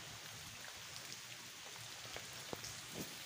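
Rain falls steadily outdoors near a home, a soft, even hiss with occasional distinct drips, faint and continuous with no voices.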